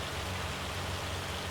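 A continuous wash of rain or hail patters down in Farming Simulator 25, an even, loud hiss with a low steady hum beneath it, no voices.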